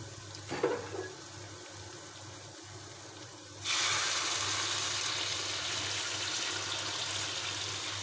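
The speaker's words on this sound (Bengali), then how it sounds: "চাউলটা ভাজা হয়ে গেছে, এখন পানি ঢেলে দেব।" Hot water poured onto fried rice in a pot for pulao, starting as a sudden loud, steady rushing hiss that continues unbroken after a quiet stretch with a few faint clicks, near and alone.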